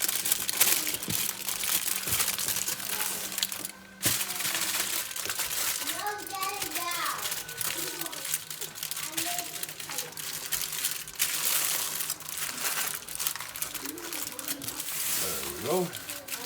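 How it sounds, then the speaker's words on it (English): Aluminium foil crinkles and crackles in bursts while brisket is wrapped for a pellet smoker, close and fairly quiet, with scattered rustling throughout and a person speaking softly in places. "I love that foil noise."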